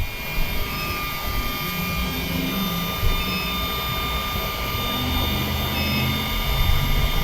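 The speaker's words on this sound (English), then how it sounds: "You're going to hold the throttle down, and it's going to do a learn cycle." An electric go-kart motor runs an automatic learn cycle with the throttle held down, giving a steady, loud, continuous electric whine with sustained tones and little variation, with no talk.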